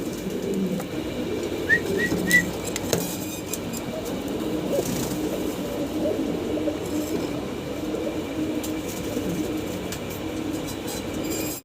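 Pigeons cooing in a loft, soft low murmuring coos running continuously under faint background noise, with a few brief chirps early on.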